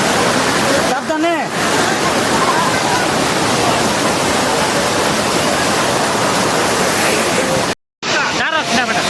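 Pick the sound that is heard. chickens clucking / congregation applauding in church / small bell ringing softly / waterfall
waterfall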